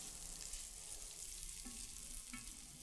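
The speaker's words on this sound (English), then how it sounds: "We're gonna start giving them a saute and till they soften a little bit." Onions sautéing in butter and olive oil for a Thanksgiving bread stuffing give a steady, fairly quiet sizzle, with a couple of faint utensil scrapes partway through and no talking.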